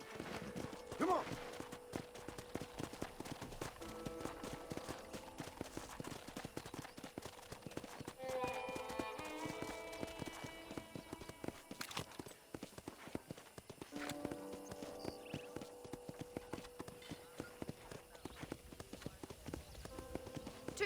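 Horse hooves clip-clop steadily along a ranch property in the video game Red Dead Redemption, a rhythmic walking gait heard throughout at moderate distance, with characters talking over it and occasional background game sounds.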